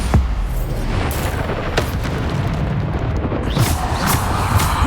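Bombarda blasting spells explode in a Hogwarts Legacy duel, a deep rumbling boom opening the stretch followed by further sharp bursts over a dense, continuous roar of battle noise, loud and close.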